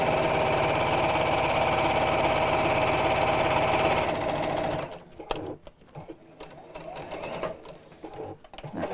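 Sewing machine stitching fabric pieces for an Easter basket, a steady fast mechanical whirr for about four seconds, then stopping, followed by faint handling clicks and rustles.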